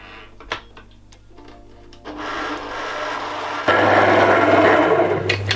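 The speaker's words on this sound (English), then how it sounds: "So I'm going to pop that straight onto the stand mixer and give it about 20 to 30 seconds to mix" A stand mixer beats banana cake batter, its motor whirring steadily and growing louder and busier partway through, with a few clinks and knocks early on.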